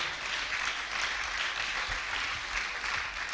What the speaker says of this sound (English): If you are clapping, please let's clap very well.